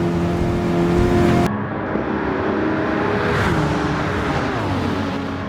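A Volvo power-build race car in Gran Turismo 7 accelerates hard down a straight on a damp track, its engine a loud, steady, high whine that shifts to a lower pitch partway through and keeps pulling without a break.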